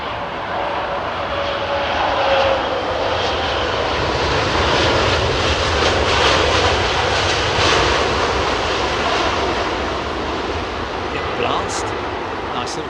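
Airliner landing at Heathrow with a short blast of engine thrust reverser, a broad roaring jet rush that swells and fades over several seconds, heard from a distance outdoors.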